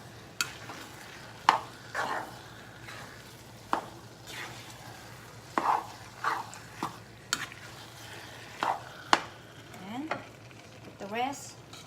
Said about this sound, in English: Mix it all up to the rice.